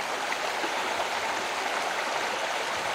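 The Kedumba River in the Blue Mountains, clear cold water flowing steadily with an even, close rushing hiss and no voices.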